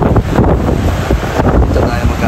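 Strong wind blows by the sea in bad weather and roars hard against the microphone. The rough, gusting rumble continues throughout, with a voice partly heard underneath.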